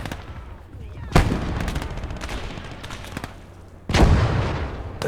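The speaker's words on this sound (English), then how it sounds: "One of our guys gets killed by the mortar" Mortar fire and explosions in Call to Arms Gate of Hell, two loud booming blasts a few seconds apart, each with a sharp crack and rumbling tail, over a constant battlefield din of scattered shots.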